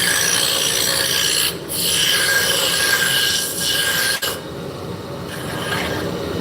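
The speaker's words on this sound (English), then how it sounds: "we're going to start with a roughing gouge." A wood lathe spins a blank while a roughing gouge trues it, giving a steady, loud rasping scrape that holds throughout with a few brief dips as the tool lifts off the wood.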